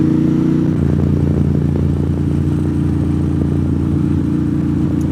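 A motorcycle rides along GA60 in North Georgia, its mid-pitched engine droning steadily and close, with a slight shift in tone early on as the revs change, and no talking.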